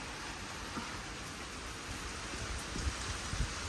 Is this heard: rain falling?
yes